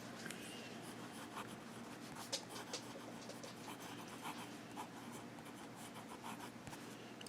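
A Pilot Explorer fountain pen nib glides over paper in continuous scratchy strokes and swirls, close but quiet, with small ticks as the nib lifts and lands, no voices.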